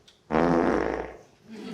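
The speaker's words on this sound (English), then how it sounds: "Is farting a sign of good gut health?" A single loud, buzzy fart rips out for under a second in a quiet room, then trails off, with no one speaking over it.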